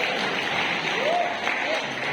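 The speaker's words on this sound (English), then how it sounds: "can I have a round of applause for that?" An audience at a digital asset presentation claps steadily for about two seconds, a dense even wash of applause with a few faint tonal sounds above it.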